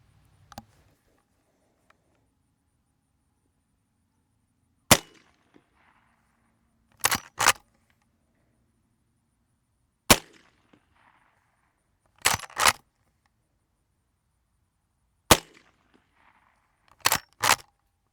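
Low-decibel .44 loads fired from a Marlin 1894 at steel targets: sharp, fairly quiet reports come about five seconds apart, each followed about two seconds later by a pair of quick clicks, against an otherwise near-silent background.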